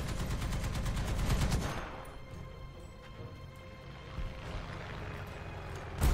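Tank gunfire in the video game War Thunder: a loud, dense burst of firing that cuts off, leaving a low engine rumble and scattered fainter shots, then a sharp blast at the end.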